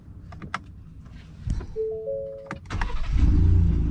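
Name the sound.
Ford F150 pickup truck being turned off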